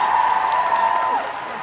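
Fans at the MCM Comic Con London panel for the cast of Ghosts applaud briefly with a held cheer rising over the clapping. The crowd noise then drops off quickly.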